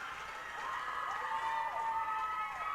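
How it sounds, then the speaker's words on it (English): Bench players cheering for a teammate at a girls' high school basketball game in a gym, a few seconds of lively shouting and whoops amid crowd noise, moderately loud and reverberant. "as we hear the elder Jayhawks on the bench cheer for their young counterpart"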